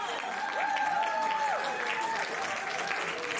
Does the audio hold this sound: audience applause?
yes